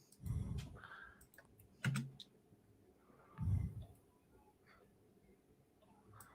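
Typing on a computer keyboard during a live stream, light scattered clicks and key taps at a distance, quiet and irregular, broken by a few low muffled thumps.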